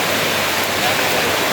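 Atambe waterfall in Sri Lanka roars in a steady, dense wash of falling water, loud and close with no break.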